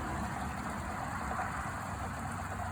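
A Toro Timecutter riding mower with a 24 horsepower engine runs steadily nearby, a constant droning engine hum with no change in pitch or level and no speech.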